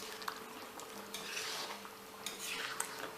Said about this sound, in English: Now just mix it,